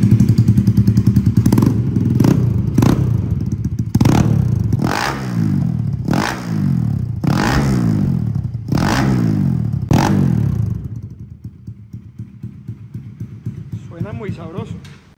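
A racing-built Bajaj Pulsar NS200 motorcycle with lenticular wheels idles with a steady low engine note, then blips the throttle in a series of about seven sharp revs that rise and fall, ending with quieter idling.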